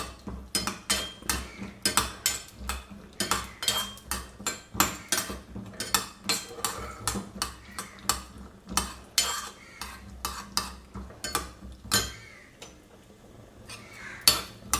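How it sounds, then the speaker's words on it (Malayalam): Metal spoon stirring mutton stew ingredients in a pan, scraping and clinking in a steady rhythm of repeated strokes, close and fairly loud, with a faint sizzle underneath. "ഇളക്കി കൊടുത്തുകൊണ്ടിരിക്കാം"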